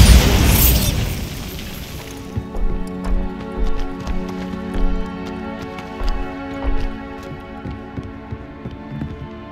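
A big explosion from the Bombarda spell in Hogwarts Legacy, a loud burst that decays over two seconds, followed by lighter thumps and popping impacts fading into a ringing tail.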